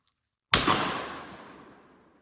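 A single loud, close shotgun blast fired at a clay target outdoors, with a sharp crack and a long decaying tail, standing alone after near silence.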